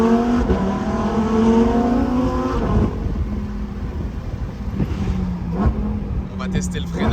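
Lamborghini Huracan Performante Spyder engine pulling through the gears, its pitch rising and dropping at each change, with a brief pop on a downshift; the engine note stays loud and close while someone talks over it.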